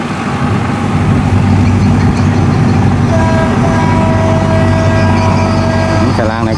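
A ghe bầu riverboat's engine drones as it heads downriver, a loud continuous low throb with a sustained tonal note rising in later seconds, while a person talks over it.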